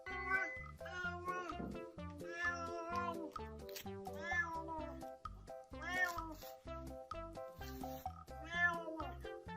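A kitten meows repeatedly in quick, high, plaintive cries, close and fairly quiet, with a few longer drawn-out mews among the rapid calls.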